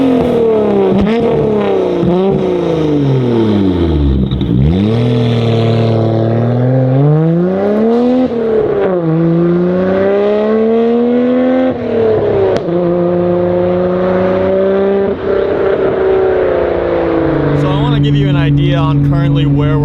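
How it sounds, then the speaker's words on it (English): A Nissan Skyline GT-R on its stock muffler drones steadily from inside the cabin while driving, its exhaust tone rising and falling with shifts and throttle changes, with a voice speaking over it throughout. "I'm gonna give you guys some before sound clips of this car"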